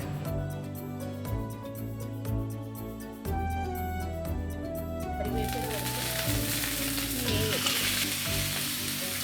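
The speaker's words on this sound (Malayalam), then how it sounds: "ഇനി നമുക്ക് മാരിനേറ്റ് ചെയ്ത് വെച്ചിരിക്കുന്ന മീനിനെ ഒന്ന് ഷാലോ ഫ്രൈ ചെയ്തിട്ട് എടുക്കാം" Marinated karimeen (pearl spot fish) shallow-frying in about 1.5 tablespoons of oil in a hot pan; a loud, steady sizzle bursts in around midway and keeps crackling over the tonal background music that fills the opening seconds.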